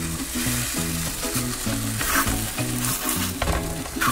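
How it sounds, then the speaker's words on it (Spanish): Arepas fry in oil in a pan with a steady, dense sizzle and crackle, while a rhythmic tonal pattern plays throughout, likely background music; no talking is heard. "Por eso es importante ponerle el aceite a la sartén antes de ponerlas"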